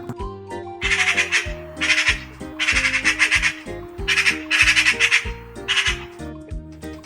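A magpie chatters loudly in repeated harsh, rattling bursts, several rapid series separated by short pauses, close by.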